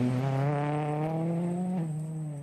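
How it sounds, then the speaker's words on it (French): A rally car on a special stage of the Monte-Carlo Rally brakes hard in the middle of a straight. The loud, close engine note holds steady, then its pitch drops sharply near the end. "Là, il freine en plein milieu de la ligne droite."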